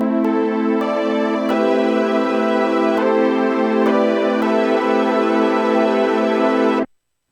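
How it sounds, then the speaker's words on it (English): Korg Wavestate pulse width modulation string sample, originally from the Wavestation: a loud, steady, bright sustained synth-string chord with faint shimmering motion, held for about seven seconds before cutting off abruptly. "In this case, it's a pulse width modulation string sound."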